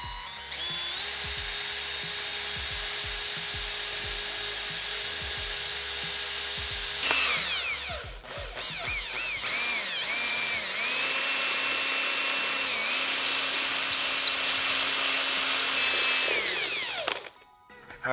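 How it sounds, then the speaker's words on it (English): A power drill whines steadily, cutting out and restarting several times with rising and falling pitch as it bores a hole into a hard plastic waterproof GoPro case, close and loud. "drilling into my perfectly good waterproof GoPro case"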